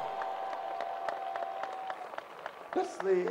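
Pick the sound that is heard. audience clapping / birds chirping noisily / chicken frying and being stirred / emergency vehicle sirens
audience clapping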